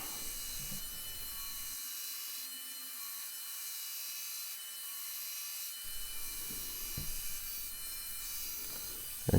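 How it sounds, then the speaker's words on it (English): A belt grinder fitted with a coarse 40 grit belt shapes a knife blade, giving a steady gritty abrasive hiss broken by short grinding contacts, continuous and close with no talking. "Now this is a really coarse belt, it's a 40 grit, just so I can rip some material off really quickly."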